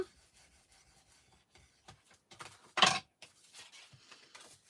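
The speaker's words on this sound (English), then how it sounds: "Give it a good burnish down." Folded paper in a craft journal is burnished down with a few soft rubbing strokes, quiet and close, with one louder scraping pass in the middle.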